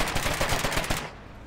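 A turret gun fires at a tank in the video game Foxhole, with rapid, loud, close machine-gun bursts that run continuously for about a second before cutting off into a quieter tail.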